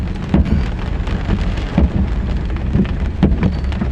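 Heavy rain lashes down during a coastal storm in Tamil Nadu, a loud, dense, continuous downpour with periodic heavier bursts and thuds.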